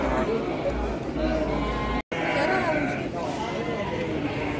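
Sheep bleat repeatedly amid a bustling livestock market in Garut, with crowd chatter and talking throughout and a brief dropout midway.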